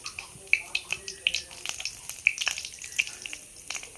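Cumin seeds and a bay leaf sizzle in hot mustard oil in a kadai, with sharp crackling pops scattered through a steady frying hiss. A voice talks over it.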